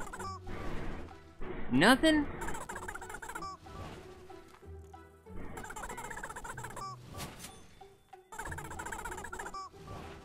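Poultry vocalizations from a chicken in the video game Barn Finders: a sharp rising squawk stands out, then softer clucks under game music and a speaking voice.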